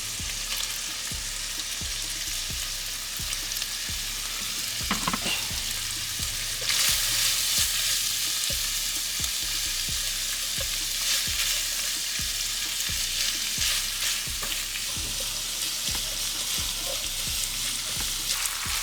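Ground meat sizzles steadily in a stovetop pan, seasoned with garlic powder, onion powder and crushed red pepper flakes, for stove top lasagna; a continuous loud frying hiss with a brief stirring scrape midway and no talk.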